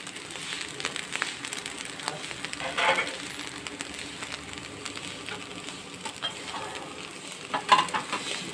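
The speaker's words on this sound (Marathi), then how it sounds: "परतून घेणार आहोत, जेणेकरून शाबू ते व्यवस्थित भाजले जातील" Sabudana khichdi is stirred and roasted in a pan, giving a continuous soft sizzle with repeated scraping and stirring strokes and a few louder clacks.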